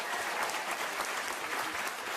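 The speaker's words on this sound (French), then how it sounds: "Lyon vous applaudit" A studio audience at a French radio comedy panel show applauds in a steady, dense patter of many hands, fairly soft and unbroken for a couple of seconds.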